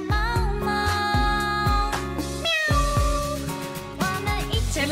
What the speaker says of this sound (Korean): 이 동네 길고양이 분단